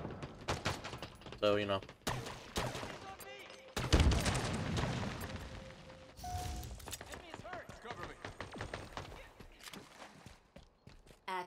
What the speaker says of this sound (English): Is someone shooting?